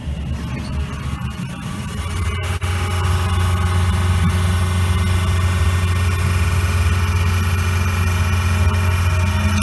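A pump on the fat separator of a roaster runs while draining the remaining fluid, a loud continuous mechanical hum and vibration that grows stronger and steadier after a brief knock partway through.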